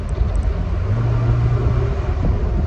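Car fitted with a Weber 32/36 carburettor and modified transmission linkage, its engine droning loudly and steadily from inside the cabin as the automatic gearbox downshifts, the pitch shifting slightly, with no speech.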